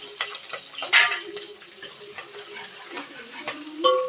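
Onions and chillies fry in hot oil for Telugu bagara rice with mutton curry, a soft, close sizzle broken by a few scraping stirs and light clatters, with faint talk in the background.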